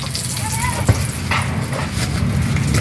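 Whole garam masala spices, cardamom among them, sizzling in hot oil: a close, continuous crackling hiss with a few sharper pops and a faint voice in the background.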